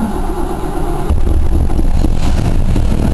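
A Cadillac engine cranks and fires at about one second, then settles into a loud, steady idle with a rough low rumble. Before that, only a quieter mechanical hum is present.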